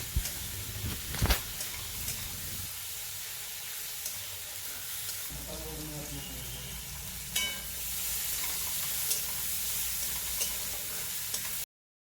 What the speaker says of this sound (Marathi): पहा आपण अशा पद्धतीनं हा कांदा टॅमॅटो व्यवस्थित भाजून घेत आहोत